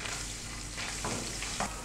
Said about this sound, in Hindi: लहसुन को हमने हल्का सा सौते कर लेना है कि इसकी मज़ेदार सी खुशबू आने लगे।